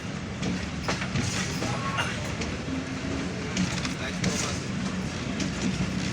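A 41 Up Kanchan Commuter train pulls slowly out of Parbatipur Junction, giving a steady low rumble with faint clickety-clack of wheels and occasional squeals, heard from on board and continuous throughout.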